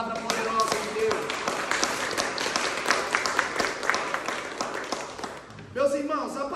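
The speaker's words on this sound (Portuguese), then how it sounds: "Aplauda a palavra poderosa de Deus" A church congregation applauds during a men's retreat service, a dense wash of clapping filling the space, with voices and singing mixed in and a brief louder swell of voices near the end.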